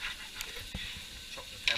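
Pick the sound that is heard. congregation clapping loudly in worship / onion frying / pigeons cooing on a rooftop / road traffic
onion frying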